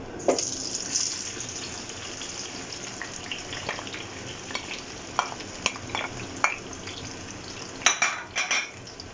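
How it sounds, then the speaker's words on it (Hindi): Chopped tomatoes tumble into a pan of hot oil, setting off a steady sizzle and frying hiss broken by several stirring scrapes and clinks of utensil on pan, close and alone without talk. "जो टमाटर मैंने कट किए थे वो अब मैं इसमें ऐड कर रही हूँ।"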